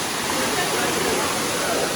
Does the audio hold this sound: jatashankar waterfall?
yes